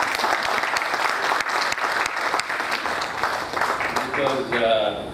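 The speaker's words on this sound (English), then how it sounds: "So let's clap for him." Sustained applause fills a hall at a corporate annual family day as an audience claps steadily for a leader, dense and loud throughout, with a faint voice and tonal sound near the end.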